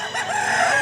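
A rooster crows once, close and loud, at a Filipino chicken sale; a single sustained call fills the short moment with no talk over it.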